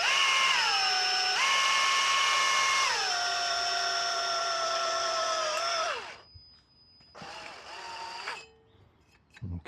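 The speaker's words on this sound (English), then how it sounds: "with this step drill" A power drill fitted with a step bit cuts holes in a kitchen drawer bracket, whining loudly and steadily, with the pitch shifting at each step, then stopping briefly before a second shorter burst of drilling.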